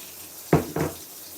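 Plain tap water briefly gushes from a kitchen faucet in two quick close bursts over a steady background hiss, with no talking.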